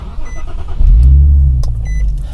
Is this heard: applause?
no